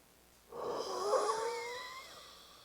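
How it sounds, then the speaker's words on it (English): Someone breathes out completely into a long, raspy wheeze that slowly fades, a faint, close breathing sound with no talking; the forced ha breath does not come through. "I'm going to exhale completely, and I'm going to go into a wheeze, and then I'm going to squeeze out a ha"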